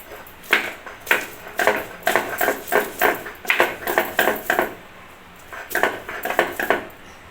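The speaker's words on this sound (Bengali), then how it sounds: "এখন আমি এই যে রসুন কোয়াগুলো একসঙ্গে লঙ্কার সঙ্গে বেটে নেব।" Garlic cloves and chillies are ground together on a grinding stone, heard as a close series of rhythmic scraping and knocking strokes in bursts, pausing briefly before resuming.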